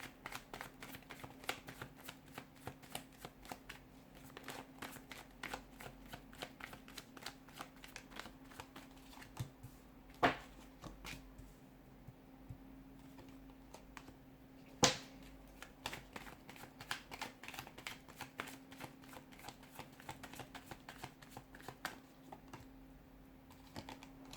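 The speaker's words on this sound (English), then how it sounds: "we'll give the cards a shuffle" Soft, rapid riffling of a deck of cards, a continuous flutter of quick clicks with a couple of sharper snaps, quiet and close.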